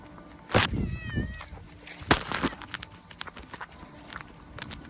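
A cat gives a single short meow close by, amid scattered thumps and light footsteps, in an apartment.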